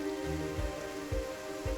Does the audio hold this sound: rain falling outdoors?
yes